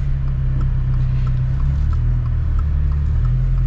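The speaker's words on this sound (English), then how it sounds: "Let us set off in this off-road WRX" A Subaru WRX Baja off-road build rolls off with a steady, low engine rumble, loud and close, with a constant drone and no talking.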